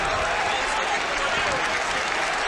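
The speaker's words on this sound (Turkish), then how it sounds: "Alkışlar var şu anda İnönü Stadı'nda." Crowd applause fills İnönü Stadium at the close of a 2003 Turkish Cup match between Beşiktaş and Gençlerbirliği, a dense, continuous roar of clapping from the stands, loud and unbroken.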